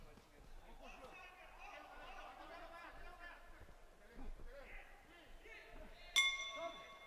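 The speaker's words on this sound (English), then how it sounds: "There goes the bell" Boxing bell ringing to end a round at the AIBA World Boxing Championships, a single sharp clang late in the bout, ringing on over steady crowd noise and commentary.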